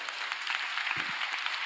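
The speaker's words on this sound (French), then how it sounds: "Donc un tonnerre d'applaudissements pour Marie" A conference audience applauds in a steady wash of clapping heard from a short distance, with a brief low thump partway through.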